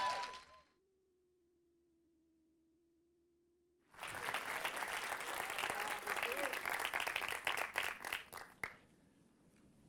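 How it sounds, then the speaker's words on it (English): After a few seconds of near silence with a faint steady tone, a crowd breaks into loud, sustained applause that fades out at the end. "Now you can clap for him."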